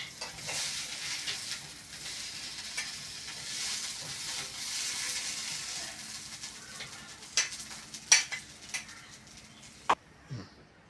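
Steady frying sizzle of ingredients for a sesame and drumstick-leaf chutney fills the background, with a few louder clinks and scrapes near the end as the food is stirred.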